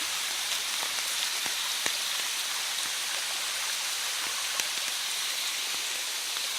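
Water pours over an old mill wall built like a dam, a steady, dense rushing hiss that never lets up, flecked with brief splashes and drips, heard alone without voices.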